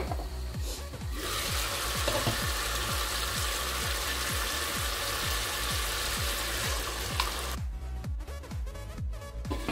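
Meat fries in a pan with a dense, continuous sizzle, while regular low scraping knocks from stirring repeat throughout, fairly close; the sizzle drops back near the end.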